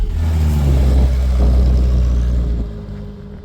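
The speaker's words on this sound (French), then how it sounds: "Ah, l'Opel Kadett qui roule." An Opel Kadett driving past with its engine running, a loud steady low rumble close by that eases off toward the end.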